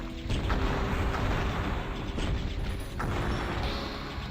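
Explosions in the shooter Heretic, a dense continuous rumbling barrage of booms and crackles, loud and close, with several sharp bursts through it.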